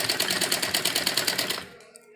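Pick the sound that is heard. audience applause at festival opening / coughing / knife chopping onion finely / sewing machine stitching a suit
sewing machine stitching a suit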